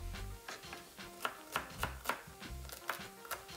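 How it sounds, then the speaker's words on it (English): A knife chops celery sticks into half-inch lengths on a board for a Mediterranean vegetable soup, giving about a dozen crisp, close cuts at an uneven, steady pace with no talking. "I cut the sticks in 1/2 inch length."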